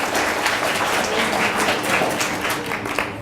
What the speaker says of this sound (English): Can we just give a round of applause for the people that shared?